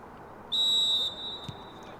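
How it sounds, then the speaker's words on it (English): A referee gives a single sharp, sustained blast of a whistle to start a Charlton Athletic Women v Coventry United football match, lasting about half a second over faint stadium crowd noise. "Referee blows her whistle and we are underway here."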